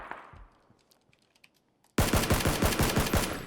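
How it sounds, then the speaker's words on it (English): Suppressed AUG or Mark 14 rifle fire in PUBG (PlayerUnknown's Battlegrounds), a rapid burst of muffled shots in quick rhythm that starts abruptly after a quiet stretch of faint clicks, close and loud. "He's shooting a suppressed, it sounds like AUG or Mark 14."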